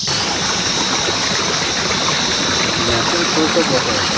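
Pure spring water flowing at Tendrabong in the Kalimpong hills, a steady close hiss of running water with a brief voice faintly in the background.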